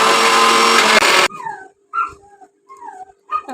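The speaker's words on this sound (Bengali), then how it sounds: "আমরা মিক্সিতে পিষে নিচ্ছি" An electric mixer grinder grinding whole garam masala with onion, cashews and raisins, a loud, steady whirring burst lasting about a second before cutting off, followed by high, whining yelps.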